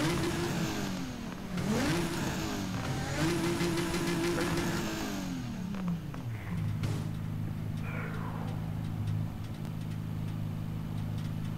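A Mustang engine in a pony-themed roleplay game revs in several rising and falling sweeps, then settles into a steady low idle hum, close and moderately loud with no talk.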